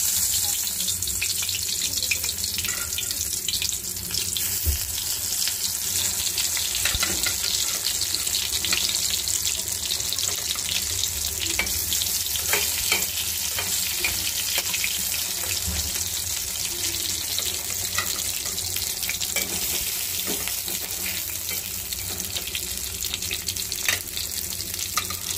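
Eggplant slices fry in a pan of oil, giving a steady, dense hiss and crackle that runs throughout, close and loud, with faint scattered pops and no talking.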